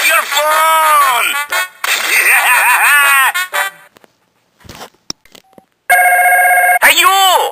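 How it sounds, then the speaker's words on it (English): A phone ringtone made of a sung, voiced melody plays in loud bursts, stops for a quiet stretch with faint clicks, then starts again near the end. "Your phone is ringing."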